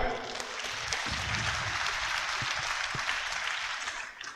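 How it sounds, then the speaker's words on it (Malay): Steady crowd applause at a town hall political talk, a dense wash of clapping that holds for several seconds and tapers off toward the end. "Syahir Sulaiman, tepukan."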